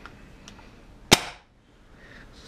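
A single sharp shot from an Empire BT Dfender paintball marker on high power during a chronograph test. It is a close, loud pop with a short decaying tail against quiet background hiss.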